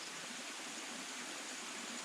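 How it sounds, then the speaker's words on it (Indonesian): A 200-meter waterfall at Air Terjun Pelangi roars as a faint, distant, continuous rush of falling water, unbroken and without talk. "ada air terjun. Okey. Sepatutnya air terjun tu setinggi 200 meter."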